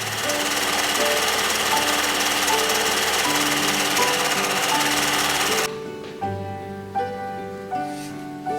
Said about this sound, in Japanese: ウエストにギャザーミシンをかけよう。